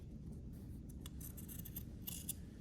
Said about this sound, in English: Don't be afraid, just be careful with your scissors.